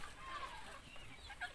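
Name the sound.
local chickens clucking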